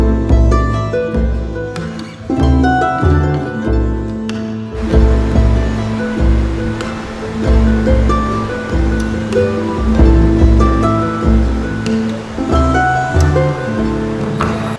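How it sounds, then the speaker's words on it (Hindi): The swollen Alaknanda river at Devprayag, a loud, continuous roar of rushing floodwater heard from above, with a steady churning surge throughout. "नीचे अलकनंदा के जल की जो आवाज़ है, जो दहाड़ है, वो बिल्कुल कानों पर आ रही है।"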